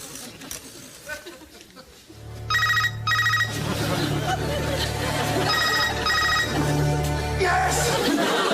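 A telephone bell rings loudly in repeated bursts over low background chatter and room noise, after a brief stretch of quieter sound.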